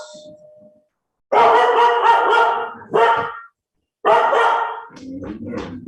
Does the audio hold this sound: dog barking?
yes